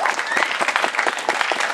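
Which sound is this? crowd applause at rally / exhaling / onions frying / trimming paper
crowd applause at rally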